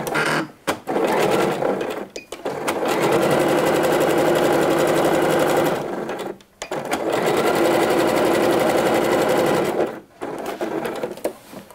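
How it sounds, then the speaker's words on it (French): A sewing machine runs a zigzag stitch to secure the ends of elastic for smocking on a blouse or dress, three loud sustained bursts of rapid needle clatter separated by brief pauses. "Je sélectionne d'abord le point zigzag pour ici fixer mes extrémités de l'élastique."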